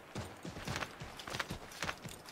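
Horse hooves clattering in Assassin's Creed 3, a run of irregular clip-clop footfalls at moderate loudness with a steady gallop rhythm, no talking over them.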